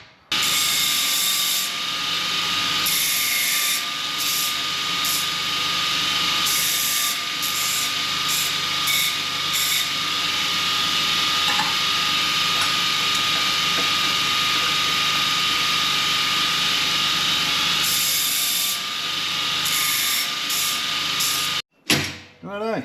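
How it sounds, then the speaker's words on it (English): A bench grinder tidies the ends of cut metal pieces for a Triumph Thunderbird tail, a loud continuous high whine and grinding rasp lasting the whole stretch, briefly dipping as work is pressed and lifted. "So I just got to tidy the ends up on the bench grinder."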